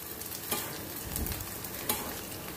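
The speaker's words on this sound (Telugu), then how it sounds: "ఈ ఉల్లిపాయ, పచ్చిమిరపకాయ బాగా మంచిగా గోల్డెన్ బ్రౌన్ కలర్ వచ్చేదాకా మనము ఫ్రై చేసుకోవాలి" Onions and green chillies frying in a pan until golden brown, a steady close sizzle with a few brief scrapes of stirring, no voices.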